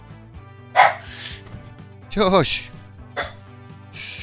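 A dog barks a couple of times nearby, loud sharp yaps over a quiet background, while a person briefly hushes it.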